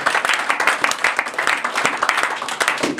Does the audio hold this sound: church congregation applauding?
yes